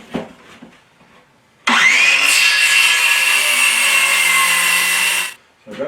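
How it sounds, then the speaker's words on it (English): A power saw cuts through the end of a wooden piece while a trapping sleigh is being built: a loud, steady whining cut of about four seconds with quieter handling sounds before and after. "Cut off the other end."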